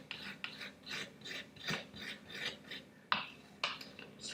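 A spoon or tool scrapes across frozen vegan pumpkin spice ice cream in a Ninja Creami pint to flatten its uneven top, giving repeated close rasping strokes in a steady rhythm, about eight scrapes with no talk.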